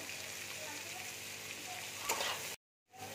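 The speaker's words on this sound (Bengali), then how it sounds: "এবার আমি পেঁয়াজটা দিয়ে দিচ্ছি" Chopped onion goes into a hot pan with capsicum and red and yellow bell peppers, a steady sizzle with a brief louder hiss as it lands, then a short silent gap before frying resumes.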